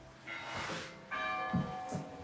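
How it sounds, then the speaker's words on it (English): Church bells ring at a distance near an abandoned 1800s Portuguese palace, with a few resonant tolls and their lingering hum over quiet room tone. "The bells ringing in the background"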